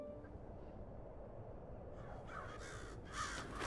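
Crows caw faintly in the video game Hello Neighbor 2, a few rough calls rising near the end over a loud, dense rumble of background noise.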